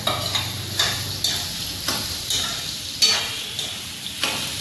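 Close, steady sizzle of vegetables frying in hot oil, punctuated by regular scraping strokes from stirring, roughly one every half second.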